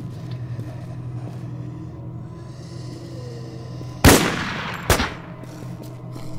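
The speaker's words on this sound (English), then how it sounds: "Popped out, shot him once." Two sharp gunshots in the WarZ video game, a loud crack followed by a second shot about a second later, over a steady low engine-like rumble.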